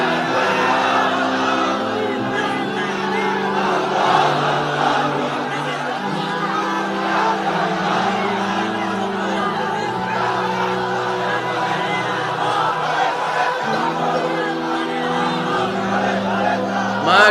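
A congregation at an Islamic sermon gathering chants the takbir loudly in unison, a sustained wall of many voices rising and falling in repeated shouted phrases.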